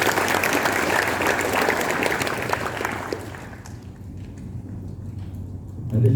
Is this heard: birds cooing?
no